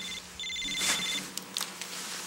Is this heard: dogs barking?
no